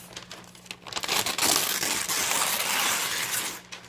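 A sheet of newspaper being ripped in half and crumpled, giving a close, continuous crackling and tearing rustle that swells and holds for a few seconds with no talking.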